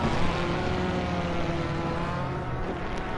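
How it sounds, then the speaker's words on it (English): A racing car engine in Assetto Corsa Competizione, a GT4 car at Paul Ricard, drones steadily with a buzzing, harmonic-rich tone. The pitch shifts slightly as it revs, loud and continuous, with no speech. "I think I can hear an engine revving."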